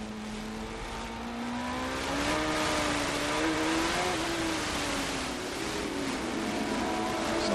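A 1997 CART race car at Portland's damp track screams past at high revs, its engine note rising and falling as the rear wheels spin, loud and steady for several seconds.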